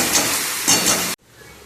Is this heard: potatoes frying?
yes